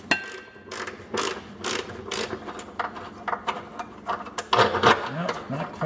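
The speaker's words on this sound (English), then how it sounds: "We're going to get the bolt started. Make sure that we don't cross any threads." A bolt being started by hand into the rear upper control arm mount of a Jeep WJ gives close metallic clicks, clanks and ratcheting scrapes in irregular bursts, and a voice speaks briefly.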